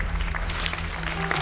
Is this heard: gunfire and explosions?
no